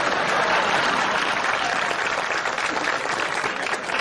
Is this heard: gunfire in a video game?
no